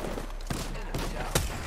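Gunfire from Apex Legends during a ranked match, with several sharp shots and bursts crackling over constant game noise, partly under quiet speech.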